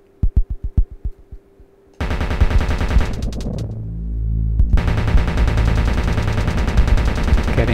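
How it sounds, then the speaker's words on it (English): Nail gun in the retro Quake homage Q1K3, with a few spaced single shots that give way to a loud, continuous rapid-fire stream of rattling shots lasting several seconds, nobody talking. "9-inch nail gun. Cool."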